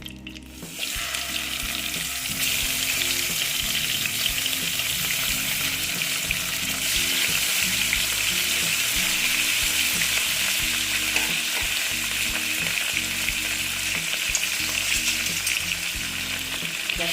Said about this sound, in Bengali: আমি পাঁচটা পাঁচটা করে ভেজে নেব